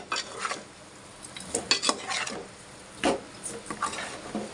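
Fish pieces being stirred into curry in a pan, with a spoon scraping and clinking against the metal in irregular bursts over a faint simmer, close and fairly quiet, with no talking.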